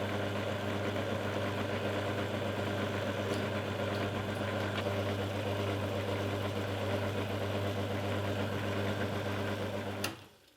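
A lathe turns a plastic part on a drill press restoration job, giving a steady, loud motor hum with a constant low drone and whirring that runs unbroken, then cuts off abruptly near the end.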